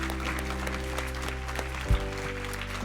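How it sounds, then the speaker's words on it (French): A church congregation at an evening prayer service claps and acclaims the Lord, a light, scattered patter of hands over a steady low hum, with one brief louder thump near the end. "Est-ce qu'on peut donner une dernière acclamation au Seigneur à Jésus avant de se séparer ce soir?"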